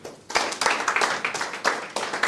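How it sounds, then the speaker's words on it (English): An audience claps for Snappcode at an academy introduction event, a dense run of many hands with rhythmic surges, loud and close, with no one talking over it. "let's clap for Snappcode"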